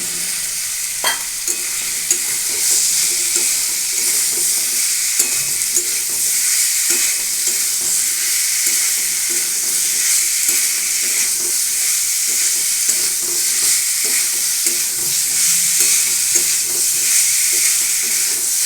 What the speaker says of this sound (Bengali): দেখুন এটিকে খুব ভালোভাবে নেড়ে চেড়ে আমি মশলার সাথে মিশিয়ে নিচ্ছি